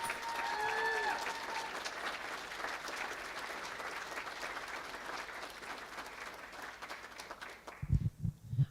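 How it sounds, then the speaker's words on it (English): Audience at a school board meeting applauds steadily, a dense patter of clapping that gradually thins out, ending in a few scattered claps and murmuring voices. "Can I just ask that we give Mudro a round of applause?"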